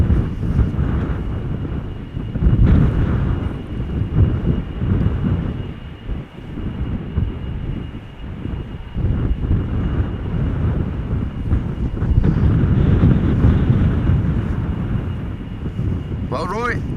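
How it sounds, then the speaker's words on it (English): KLM Boeing 777-200ER airliner at Schiphol Airport, a broad roaring jet wash heard under ongoing talk, rising and falling with wind buffeting across the whole stretch. "going to Paramaribo in Surinam. KLM flight 713. It's a 777-200 ER, 17 years old."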